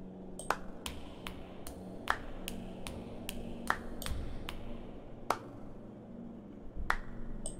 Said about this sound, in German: Bär klatscht weiter.